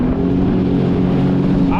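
A 20-year-old jet ski's engine runs steadily on a test ride on the water, a loud, close, continuous droning hum with wind buffeting over it and no talking.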